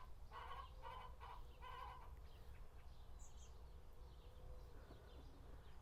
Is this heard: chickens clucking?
yes